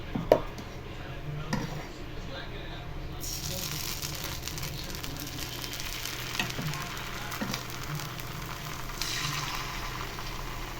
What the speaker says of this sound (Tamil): கல் நல்லா ஹீட் ஆயிடுச்சு இப்போ நம்ம தோசை ஊற்றிடலாம்